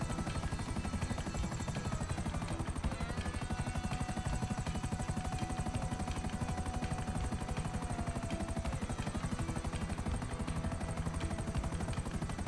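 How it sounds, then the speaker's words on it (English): A helicopter in the video game GTA Online, played on Xbox One, thrums loudly and steadily throughout, its dense rotor chop continuous with no talk over it. "Now this is the first time ever flying a chopper."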